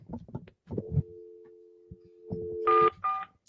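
A telephone call placed during a radio show: after brief speech, a steady two-tone dial tone hums for about two seconds, then a few loud DTMF keypad beeps follow.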